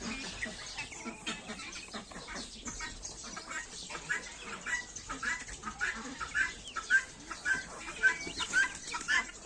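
Boxes packed with chicks and poultry fill the air with a steady chorus of high peeping and scattered clucks, rising in a rhythmic run of calls toward the end, close by and moderately loud.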